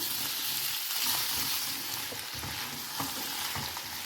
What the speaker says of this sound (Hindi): आलू को 2 मिनट कम से कम इसी तरीके से चलाते हुए मीडियम आंच पे पकाएंगे।